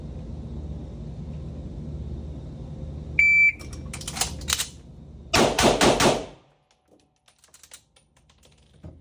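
During a shooting drill, a shot timer beeps, then two quick volleys of close, sharp gunshots fire in rapid succession before the range falls quiet.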